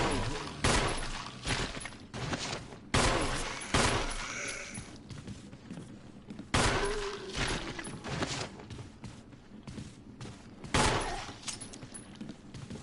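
Gunfire in Resident Evil against zombies: a series of sharp, loud shots spaced a second or two apart, each with a short ringing tail, over quieter game noise and occasional voices.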